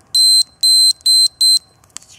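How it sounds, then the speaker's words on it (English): A homemade low primer alarm on a Lee Pro 1000 reloading press sounds four loud, shrill electronic beeps in a quick even rhythm, followed by a faint short chirp. "here is a very simple low primer alert"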